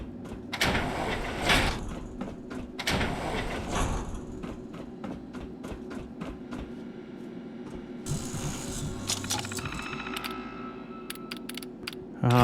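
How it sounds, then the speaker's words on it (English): A door unlocks and slides open in the Fallout London video game, with mechanical clunks and a long grinding slide, then metallic rattling amid steady background hum. "Unlocked door."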